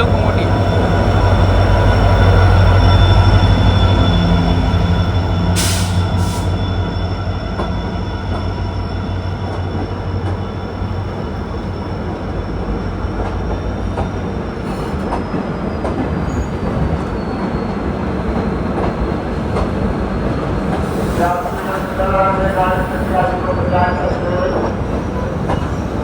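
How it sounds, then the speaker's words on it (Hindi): A Tughlakabad-based WDP4D diesel locomotive hauls the Sampark Kranti express along platform 1 at Rudrapur City railway station. Its loud, close, steady rumble carries wheel clatter, with brief squeals and tones near the end. "और इसमें लोकोमोटिव है तुगलकाबाद का WTP 4D"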